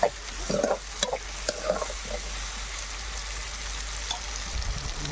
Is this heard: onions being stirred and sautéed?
yes